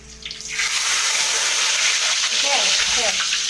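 Ghee (samna) heats in a pot with a steady, loud, hissing sizzle that swells in at the start and fills the moment close up, with faint scraping stirs underneath.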